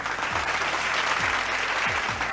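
Steady burst of crowd applause used as the reward sound effect in the Beatnik esoteric programming game, dense continuous clapping at even volume, with faint musical tones underneath.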